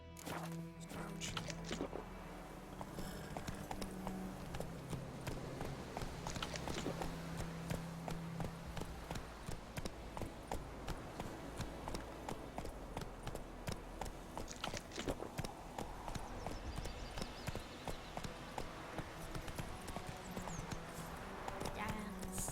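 Roach, a horse in the video game The Witcher 3, gallops with steady rhythmic clip-clopping hooves running for over twenty seconds beneath game music and occasional character talk.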